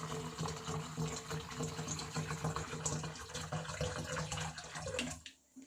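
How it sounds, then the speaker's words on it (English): Water poured into a homemade automatic hand sanitizer dispenser, a steady splashing fill with no talk that runs close and continuous for about five seconds, then cuts off abruptly near the end. "So now just let me pour some water for testing."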